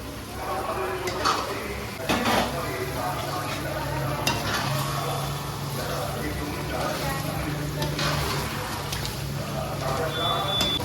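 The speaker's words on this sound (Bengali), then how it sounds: "চিকেনটা দিয়ে একটু কষাতে হবে" Chicken sautéing in a pan, with a continuous sizzle and frequent stirring and clinking of the utensil against the cookware throughout, heard close up under occasional background voices.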